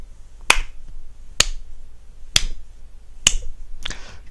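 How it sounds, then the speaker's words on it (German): Five sharp, slow hand claps, evenly spaced about a second apart, sound close and dry with nothing else around them, a deliberately sarcastic round of applause. "das war jetzt ein schlechtes, sarkastisches Klatschen"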